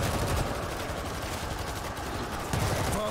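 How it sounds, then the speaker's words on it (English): Dense automatic gunfire from the World War Z video game, set in a Moscow, Russia mission, rattling continuously and loudly for the whole stretch with a few sharper bursts near the end. "I'm shooting now!"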